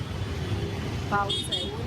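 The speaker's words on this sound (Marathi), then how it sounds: "खूप बेकार ट्रॅफिक आहे ना" Road traffic noise with a low engine rumble and a couple of short horn toots toward the end.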